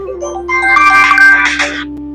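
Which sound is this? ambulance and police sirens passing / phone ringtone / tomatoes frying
phone ringtone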